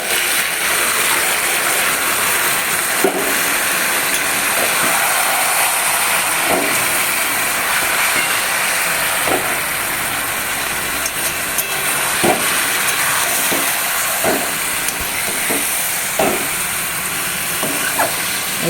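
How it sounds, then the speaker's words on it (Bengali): Marinated chicken meat hits a hot pan and fries with a loud, steady sizzle and hiss, punctuated by occasional stirring clinks and scrapes throughout, no voices. "তো তাই মাংসটা ঢেলে দেবো।"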